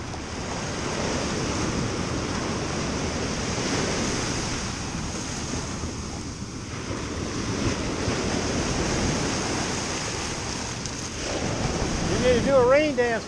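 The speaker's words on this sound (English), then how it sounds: "and the waves are very angry." Rough, angry ocean surf crashes under strong wind buffeting the microphone, a continuous churning roar swelling and easing, with a brief voice near the end.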